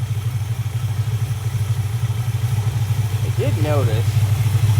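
A 1967 Imperial Le Baron engine running smoothly at idle, a steady low rumble with an even pulsing beat heard close up, while a person speaks briefly over it near the end.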